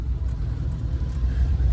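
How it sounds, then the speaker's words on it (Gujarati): A car driven by Manishbhai on a trip to fetch water gives a steady low engine and road rumble from inside the cabin, continuous and fairly loud throughout. "અમારા મનીષભાઈ ગાડી ચલાવો, પાણી ભરવા જઈએ અમે ગાડી લઈને"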